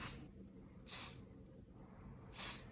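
Silicone spray lubricant hisses onto bicycle derailleur pivots during winter bike maintenance in three short, close, bright bursts separated by quiet pauses.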